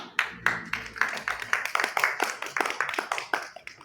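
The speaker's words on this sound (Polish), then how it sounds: "Wielkie brawa" Audience applause greets a children's theatre performance of a local legend, with a few distinct claps at first building into steady, moderately loud group clapping with a faint voice underneath.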